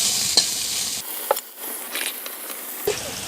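Sliced onions with a pinch of salt fry toward brown in a pan for a dried fish and potato curry, giving a steady close hiss of sizzling oil broken by a few soft scrapes and clicks of stirring.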